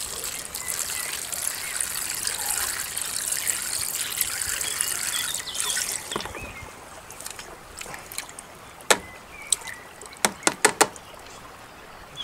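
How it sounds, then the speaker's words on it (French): Water poured over rinsed tomato seeds, a steady trickling, splashing pour for about six seconds, then scattered drips and small clinks close by. "Et je remets un petit peu d'eau."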